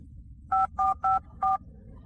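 Four short telephone keypad beeps in quick succession, clear and fairly close, over faint background noise.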